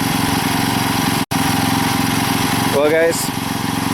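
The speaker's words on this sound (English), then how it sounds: "The engine is running." An old small engine runs after a carburetor cleaning and tune-up, a loud, close, steady chugging putter with a rapid rhythmic pulse while someone talks briefly over it.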